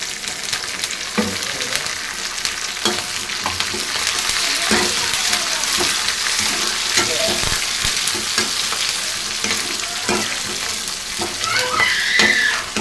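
Oil sizzles and crackles continuously as spices and fenugreek are tempered in an appam pan for fish curry, with intermittent stirring clinks and louder spits of frying throughout.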